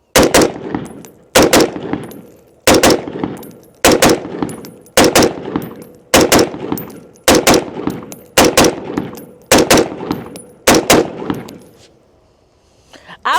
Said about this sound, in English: Let's just do a few double taps